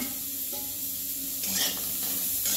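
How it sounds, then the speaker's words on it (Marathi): Finely chopped onion, two onions' worth, tipped into a hot kadhai and starting to fry, giving a steady close sizzle and hiss with a brief louder burst of crackling partway through, no talking. "कढई आपली चांगली गरम झाल्या, त्यात ओतूया कांदा।"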